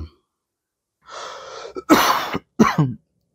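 A few sharp, close bursts like coughs or throat-clearing, one drawn-out then two abrupt explosive ones, separated by silence.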